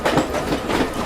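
A local commuter train rolls along with a steady, loud rumble and rhythmic clatter heard from inside.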